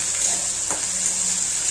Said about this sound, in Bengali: কাঁচা লঙ্কাও দিয়ে দেবো